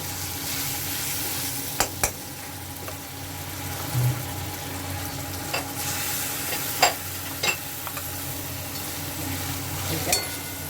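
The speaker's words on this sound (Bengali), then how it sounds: "এরপরে আমি পেঁয়াজ আদা রসুন সব একসঙ্গে বেটে নিয়েছি সেইটা দিয়ে দিচ্ছি" Ground onion, ginger and garlic paste frying in oil for meatball curry, a continuous close sizzle with occasional spoon clinks and scrapes spread across the stretch, and a faint low hum behind it.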